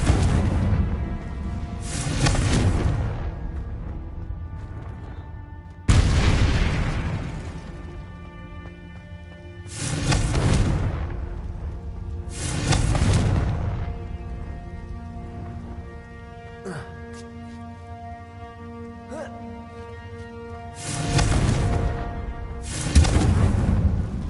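Repeated Confringo spell explosions in Hogwarts Legacy erupt as loud, broad booming bursts about every three to four seconds, each swelling and fading into a rumbling tail over a low ambient bed.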